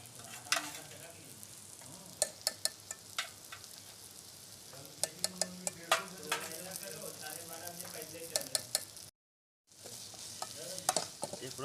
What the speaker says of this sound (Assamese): এতিয়া এই আদা নহৰু পেষ্টখিনি দিম।